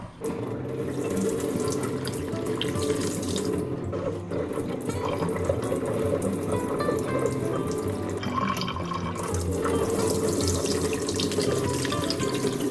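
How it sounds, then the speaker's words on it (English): Running tap water steadily fills a jar of brining olives, a continuous close splashing stream that holds even for the whole stretch with no voices. "And then just fill it up with water again."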